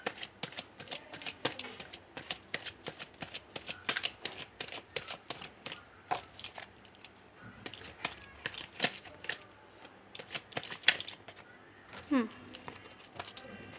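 Tarot cards being shuffled and handled, with a steady series of close, crisp riffling clicks and soft card slaps throughout, fairly quiet, with no talking.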